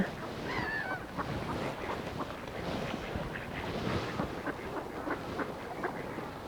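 A flock of ducks gathers to be fed bread, their quacks and honks overlapping in a continuous busy chorus, close by, with no talk over it.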